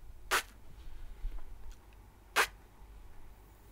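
A beatboxed speed snare, two short, sharp, hissy bursts about two seconds apart over quiet room noise, made by a single voice imitating a snare drum.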